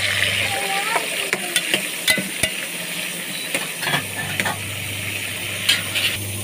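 Tomatoes go into a pan of onions already fried until reddish for daalcha, giving a steady sizzle with repeated stirring scrapes and clicks of a spoon against the pan, close and moderately loud throughout.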